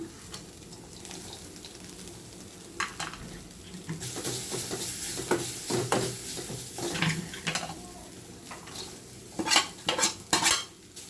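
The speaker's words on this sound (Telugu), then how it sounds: "చూడండి ఇప్పుడు కందిపప్పు ఉడకబెట్టి పెట్టుకున్నాను, వేస్తున్నాను" Boiled toor dal goes into a pan of frying moringa leaves and is stirred, with irregular scrapes and clinks of a metal spoon against the pan over a soft sizzle, growing busier toward the end.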